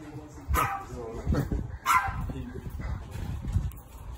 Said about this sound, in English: Watch out for that killer dog.